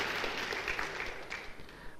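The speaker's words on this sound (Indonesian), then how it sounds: "Haleluya, boleh beri tepuk tangan, puji Tuhan." Applause from a church congregation during a sermon rises as a soft, steady patter of many hands, faint and somewhat distant, with a few sharper claps standing out.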